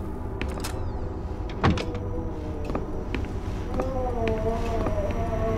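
Door being unlocked and opened in the Call of Cthulhu video game, with a sequence of metallic clicks and a strong clunk early on, then creaking squeaks toward the end over a constant low ambient hum.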